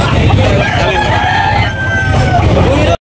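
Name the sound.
rooster crowing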